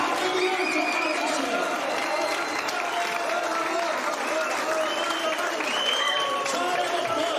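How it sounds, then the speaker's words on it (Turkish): A large crowd claps loudly and continuously for a doctor being introduced at a Turkish stage event, with the applause sustained at an even level throughout and mixed with crowd chatter and a voice. "Çok alkış istiyorum."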